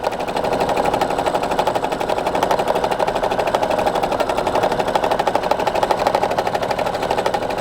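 A sewing machine running continuously at a steady rapid stitching rhythm while doing free motion quilting, the needle's dense mechanical chatter loud and close throughout.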